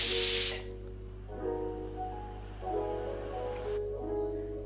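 A pressure cooker holding saag lets out a loud, close burst of hissing steam that cuts off within half a second, followed by quieter, steady tonal background sound.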